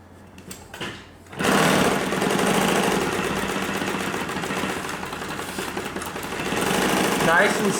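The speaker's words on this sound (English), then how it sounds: "You're sewing right on that line." A sewing machine stitches a curved line on a fabric scrap during upholstery sewing practice, a steady, loud continuous whir after a brief quieter start, with faint speech beneath it.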